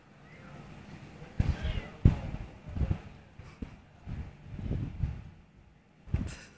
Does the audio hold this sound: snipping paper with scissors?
no